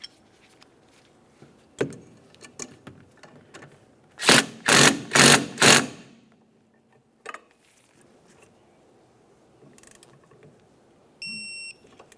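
A ratchet or torque wrench tightens the pinch bolt on the rear upper control arm of a 2006-2011 Honda Civic, giving a close burst of four loud, rapid ratcheting pulses amid quieter clicks and scraping, with no talking.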